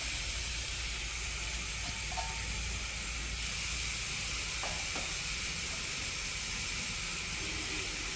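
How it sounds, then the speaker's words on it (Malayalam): Cooked green gram is stirred in a frying pan, giving a steady faint sizzle and hiss with a few soft scrapes of the spoon. "ചെറുപയറിട്ടിട്ട് എല്ലാം കൂടിയിട്ടൊന്ന് ഇളക്കി യോജിപ്പിക്കാം"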